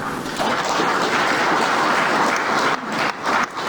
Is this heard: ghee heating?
no